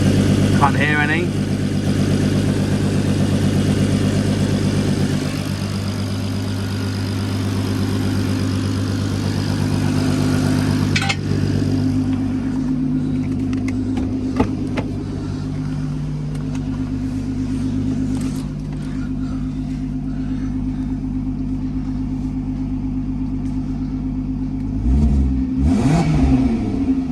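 An MK5 Golf R32 turbo engine with a custom 3-inch exhaust idling close by with a steady, loud drone, then revving up and settling back, with a brief rising rev near the end.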